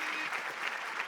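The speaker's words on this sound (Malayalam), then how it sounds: "നല്ലൊരു കൈയടി." Studio audience applause on a Malayalam TV game show, a steady burst of clapping from many hands filling the short moment without talk.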